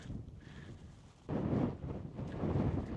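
Strong wind on Dartmoor buffets the microphone in heavy, low gusts that swell and ease.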